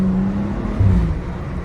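A BMW 335i engine drones steadily while driving, a loud, low rumbling hum with a brief surge partway through, heard from inside the car.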